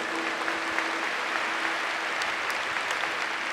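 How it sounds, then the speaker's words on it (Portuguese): A church congregation applauds Canção Nova and Padre Jonas with sustained, dense clapping from a large crowd, steady and loud throughout without speech. "Aplaudamos a Canção Nova e o Padre Jonas."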